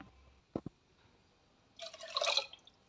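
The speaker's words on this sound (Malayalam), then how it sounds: "കുറച്ച് കൂടുതൽ വെള്ളം ഒഴിക്കാം." Water is poured into a pot of sambar cooking with green chilli and onion: two quick drips, then a louder splashing pour that runs about a second before trailing off, nearby with no talking.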